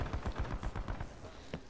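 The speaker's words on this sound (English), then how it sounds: "Sniper firing" Rapid bursts of gunfire from a sniper rifle in the Call of Duty video game, a quick series of loud low-heavy shots close together with a sharper crack near the end.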